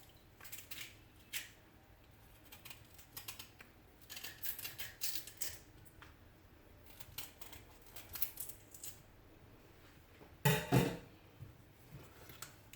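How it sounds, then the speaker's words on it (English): Ginger being cut up by hand for Jamaican green seasoning, with faint, irregular knife taps and scrapes on a board, quiet and close, ending in one louder clatter. "So you just cut up your ginger."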